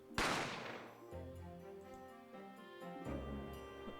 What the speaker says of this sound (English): didn't have time to think about where the sound of the gunshot had come from.